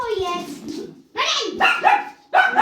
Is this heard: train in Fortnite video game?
no